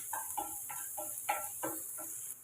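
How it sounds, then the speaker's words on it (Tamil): Rhythmic scraping and stirring in a hot pan, about seven strokes in steady succession over a faint constant sizzle of onions and curry leaves sautéing for okra stir-fry. "இப்போ அதை நல்லா வதங்கி விட்டு எடுத்துக்கலாம்"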